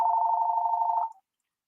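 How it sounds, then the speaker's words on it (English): A mobile phone rings with a steady tonal chime for about a second, loud and close, then cuts off into silence. "How the hell my phone is ringing?"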